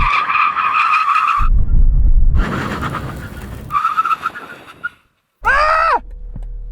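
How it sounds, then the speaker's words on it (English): A car braking hard during a brake test, with loud tire squeal and skidding in long sustained tonal bursts broken by rougher rumbling sections, close and intense, ending in a brief silence followed by a final squeal. "Now for the brake test."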